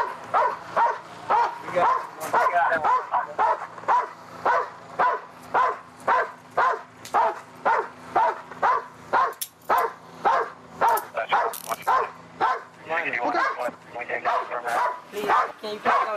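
A police dog barks repeatedly in rapid, rhythmic bursts, loud and close. A voice talks intermittently between and under the barking.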